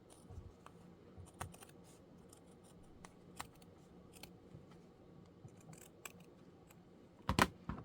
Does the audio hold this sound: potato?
no